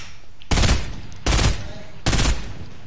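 Three loud, separate bursts of video game gunfire, each about half a second long, come at a steady pace with short gaps between them.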